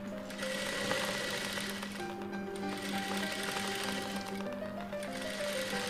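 A sewing machine stitches along the edge of a blouse piece, running in one continuous, even mechanical whir close by for several seconds, with no talk.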